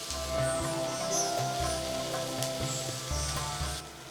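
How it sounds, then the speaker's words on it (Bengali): About two to two and a half cups of long, thinly sliced onions frying in a pan, a soft steady sizzle running throughout beneath background music. "এইবার পেঁয়াজ ভাজুন যতক্ষণ না তাতে রং ধরে।"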